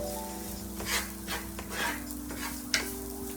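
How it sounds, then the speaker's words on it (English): Diced shallots cook in a pan for a mushroom risotto, stirred with a wooden spoon: a low steady sizzle under soft scraping strokes and one sharper clink near the end, with no talking. "we're gonna put in our diced shallot here. And we're gonna cook this for another 60 seconds."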